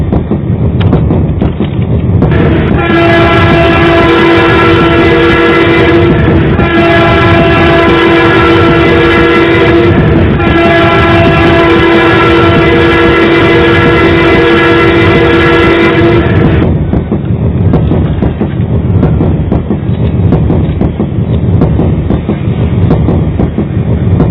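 A train runs along the rails with a steady loud rumble, and a long sustained horn sounds for roughly fourteen seconds in three blasts before the rolling clatter carries on alone.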